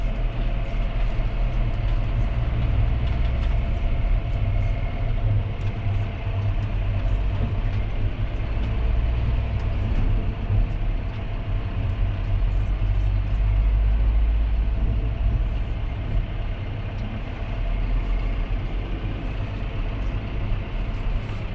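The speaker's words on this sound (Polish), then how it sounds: "zobaczcie teraz jak na złość tiry jadą musimy się jakoś wyminąć" Heavy trucks rolling past on a narrow tree-lined road while an excavator is towed, a steady loud low rumble of engines and tires that continues without a break.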